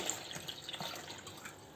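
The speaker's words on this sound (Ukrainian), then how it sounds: "Сюди наливаю дві кружечки води." Warm water pours from a mug into a bowl, a steady close splashing and trickling stream with no voices.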